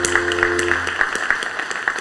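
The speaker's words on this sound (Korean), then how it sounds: "하나님께 영광의 박수 올려드리겠습니다." A church congregation claps in praise to God at a Thanksgiving service, with a short burst of scattered, fairly close clapping over a sustained organ-like tone that fades partway through.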